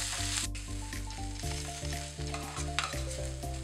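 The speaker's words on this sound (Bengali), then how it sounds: "এবার মশলা, ডাল, মটরশুঁটি, সেদ্ধ আলু, টক দই সব এবার ভালো করে আমি একসঙ্গে মিক্স করছি।" Spices, moong dal, peas, boiled potato and sour yogurt sizzle in oil while being stirred together for moong dal ghonto. A steady frying hiss runs underneath prominent background music.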